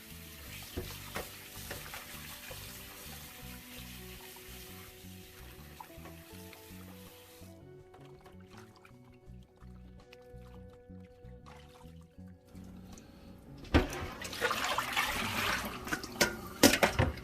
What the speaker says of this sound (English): And then I'm going to rinse off the fish.